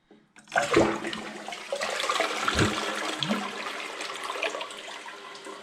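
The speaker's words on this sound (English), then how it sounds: "Let's do its inaugural flush" A newly installed Toto Aquia IV toilet flushes with a strong rushing surge of water that settles into a steady swirl and refill trickle, close and continuous with no talking.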